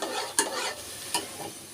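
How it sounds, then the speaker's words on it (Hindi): Urad dal frying in a masala, a soft continuous sizzle broken by two sharp scraping stirs of a spoon in the pan, close and with no voices. "ये माश की दाल को हमने भूनना शुरू कर दिया है मसाले के अंदर"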